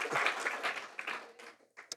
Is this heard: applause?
yes